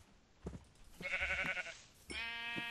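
A sheep in the video game Minecraft bleats several times in short, nasal calls, close and clear against a quiet background.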